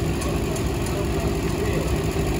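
A 1960 Allis-Chalmers D15 tractor at a power parade idles with a steady, low, rumbling engine drone, close and continuous, with no talk over it.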